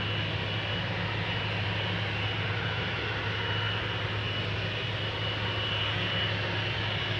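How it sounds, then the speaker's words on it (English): KLM Boeing 777-200 airliner, first flown in March 2006, taking off from Schiphol's Polderbaan runway: a loud, steady jet engine roar with a low hum underneath that holds without a break throughout. "Next up, KLM flight 713 on its way to Paramaribo"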